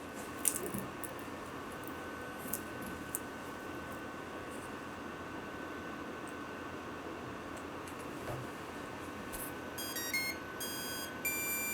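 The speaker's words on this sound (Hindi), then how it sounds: "ये बीप साउंड को आपको ख़त्म होने देना है, उसके बाद में शुरू करना है।" An electronic speed controller on a hexacopter being tested with a servo tester gives a short series of faint electronic beeps near the end, over a steady low hiss with no talking.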